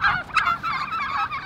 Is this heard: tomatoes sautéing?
no